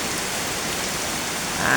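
Heavy rain pours steadily outdoors in wind during a night-to-morning downpour in Thailand, a dense even hiss that swells louder near the end, with no voices.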